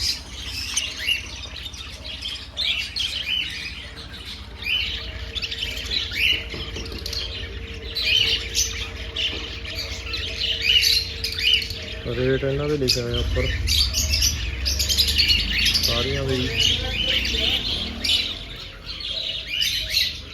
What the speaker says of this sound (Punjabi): ਦੇਖੋ ਵੀ ਮਿੱਤਰੋ ਚਿੜੀਆਂ ਛੋਟੀਆਂ ਛੋਟੀਆਂ ਜੀ ਰੰਗ ਬਰੰਗੀਆਂ ਚਿੜੀਆਂ